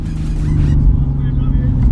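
A 2020 Toyota Supra idles at a drag strip, its engine a deep steady rumble close by, with a brief burst of brighter noise early on before the low drone carries on alone.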